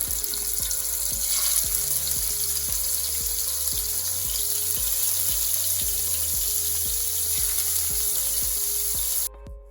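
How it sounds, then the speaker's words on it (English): Shrimp sizzle and fry as they are dropped one at a time into a hot pot for jerk shrimp, a steady bright crackle with repeated soft plops at a regular rhythm. "now that your pot is hot and ready, you can go ahead and start adding our shrimp"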